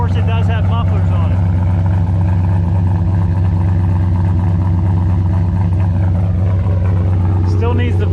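A turbo GMC truck runs with a low, steady engine drone muffled through two mufflers, heard close and continuous while someone talks over it.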